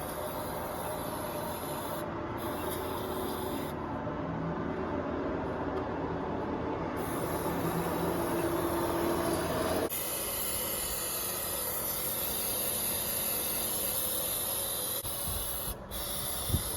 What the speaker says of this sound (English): Clean up both mating surfaces with some brake clean.